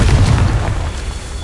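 A Confringo spell explosion in Hogwarts Legacy hits with a single loud, deep boom that rumbles and then fades over about a second.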